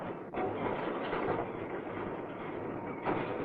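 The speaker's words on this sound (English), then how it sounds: "First on the scene is the borer train." A 1965 British railway borer train, carrying an auger drill on a low loader, rolls in with a steady, loud, dense rumble that barely dips before swelling again near the end.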